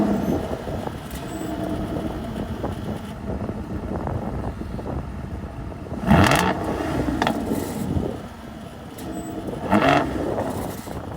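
Aston Martin DB9 with a V12 pulling away, a steady engine drone with wind rush and two distinct louder revving surges as the car accelerates.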